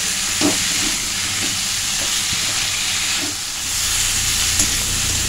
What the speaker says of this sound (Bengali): সব উপকরণগুলো আমি ভালো করে এভাবে মিশিয়ে নিচ্ছি আর একটু ভালো করে কষে নেব।